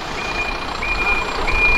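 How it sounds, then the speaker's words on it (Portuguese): A reversing water tanker truck on a busy avenue gives off steady, evenly spaced high beeps over a constant rumble of engine and traffic, with no voices. "O caminhão, o caminhão pipa."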